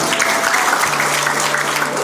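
An audience of elderly attendees at a health talk breaks into applause, a dense even wash of clapping held at steady strength for the whole stretch.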